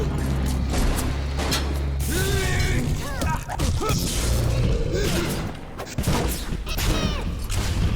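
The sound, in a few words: enemy shooting at the player, from the video game BioShock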